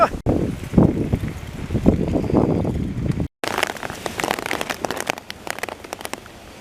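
Heavy rain pours steadily while a cyclist on a tour of New York takes shelter, with speech over the first half before a brief cut, then dense crackling raindrops patter loudly and continuously.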